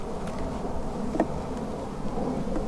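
Angry honeybees swarm around a beekeeper in a bee yard after their brood has been taken, making a dense, continuous close buzzing with a few individual bees zipping past nearby.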